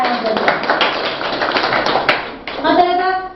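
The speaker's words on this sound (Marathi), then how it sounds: "त्यांच्यासाठी एकदा सगळ्यांनी टाळ्या वाजवाव्या." Clapping for schoolchildren who sang a poem in a village school classroom, a loud, close burst of many small hands applauding, with children's voices mixed in near the end.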